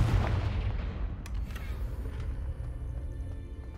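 A Confringo spell cast in Hogwarts Legacy sets off a loud, close fiery blast at the start, then rumbling debris and a fading boom with a few sharp crackles.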